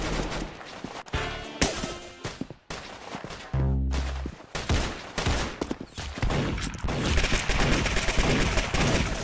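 Rapid gunfire from the Roblox shooter Arsenal, with bursts of automatic fire and single shots crowding together loudly and continuously, broken by a brief lull and a low tonal game sound.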